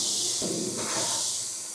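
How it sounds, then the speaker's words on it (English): Steam hisses sharply as a wet Barbecue Daddy grill cleaner is pressed onto hot, preheated grill grates, a steady broadband rush that swells in two quick surges and keeps sizzling. "it just creates all this steam as soon as the Barbecue Daddy hits it"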